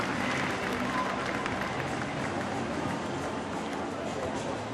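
A sellout night-game crowd at a Pittsburgh baseball stadium produces a broad, steady roar of cheering and clapping that fills the air evenly from start to end, with no distinct peaks.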